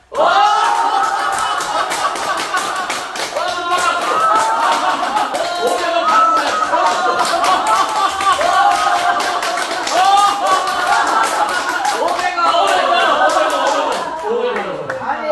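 A church audience claps together in a laughter session, fast steady rhythmic applause throughout, loud and close, mixed with laughing voices and shouts.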